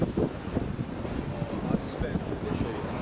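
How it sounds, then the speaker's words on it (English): Wind blows outdoors around a hospital in London, rumbling as low buffeting gusts across the microphone under a voice talking throughout. "it is quite windy out here"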